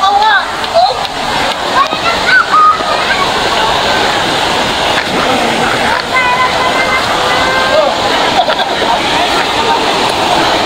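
Water at a black sand beach where people went swimming, splashing and rushing in a loud, steady wash close by, with bursts of splatter throughout; no voices stand out over it.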